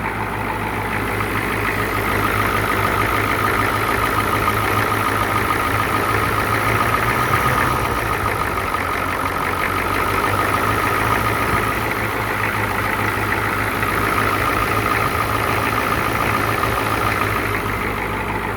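An old Ford engine idles steadily on its fast idle cam, a continuous low rumble with a firm, even hum that holds level and close for the whole stretch, with no voices.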